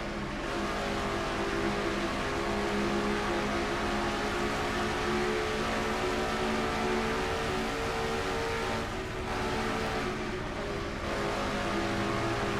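An on-board stock car engine at Dover in a racing video game drones loud and constant, revving high through the turns with slight dips in pitch.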